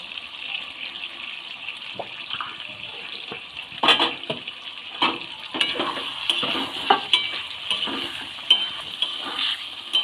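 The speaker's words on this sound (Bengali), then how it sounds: "এবার ভালো করে আলুটাকেও কষিয়ে নিচ্ছি" Small potatoes with spices fry in a pan for a dum aloo dish, a steady sizzle running throughout with scattered scraping taps of a stirring utensil against the pan, close and moderately quiet, with no talking.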